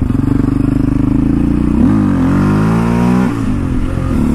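A Raptor 700 ATV on street tires revs hard up close for a wheelie, its single-cylinder engine throbbing loudly, then climbing in pitch and holding a strained, steady roar.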